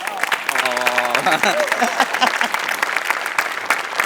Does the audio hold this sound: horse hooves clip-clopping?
no